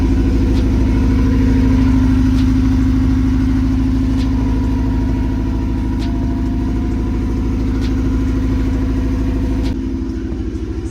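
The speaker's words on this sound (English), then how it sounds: "It's idling a lot better" A Honda CR-V engine idles steadily and close by, a loud low rumble with an even pulsing rhythm that holds throughout, with a slight change in tone near the end.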